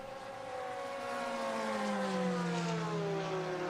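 Acura race cars at the Daytona 24 Hours, Meyershank Racing and Wayne Taylor Racing entries, one steady engine drone with its pitch sliding slowly downward as it passes, heard alone without talk.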